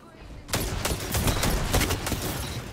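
Rapid gunfire from a gun in a first-person shooter video game, a dense burst of repeated shots that starts sharply and keeps going loud and close, with a voice speaking over it.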